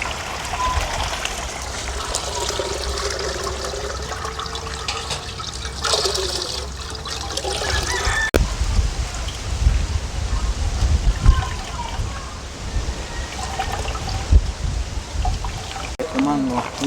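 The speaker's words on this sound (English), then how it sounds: "Get the coconut juice now." Coconut juice is poured into a cooking pot for mango rice, a steady liquid stream running for much of the stretch amid kitchen clatter and background noise, with a voice talking at times.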